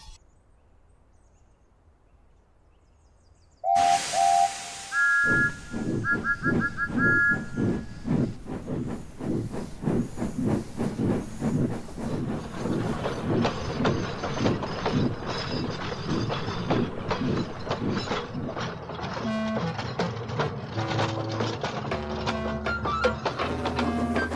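Three steam locomotives working a triple-header train chug and hiss steadily, with rhythmic puffing, whistle-like tones and clanking building over a noisy background after a quiet start.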